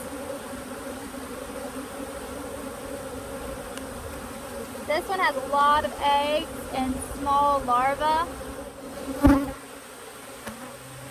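A steady buzz of many honeybees in an open hive during inspection fills the air up close, continuing under a voice speaking partway through.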